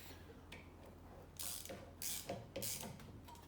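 A ratchet tightens small M5 or M6 bolts into a flywheel puller on an old farm Honda G400 engine, sounding as three quick, quiet bursts of clicking close by, with short pauses between them.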